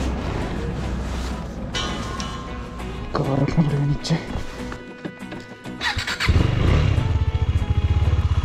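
A motorcycle in the mountains of Pauri Garhwal cranks and fires up near the end, settling into a loud, close, chugging idle after someone speaks over early-morning background sounds.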